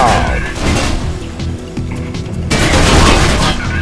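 Rapid bursts of gunfire and heavy booms from the first-person parkour video game Mirror's Edge, loud and close, pounding in dense overlapping volleys with brief lulls, an abrupt shift partway through.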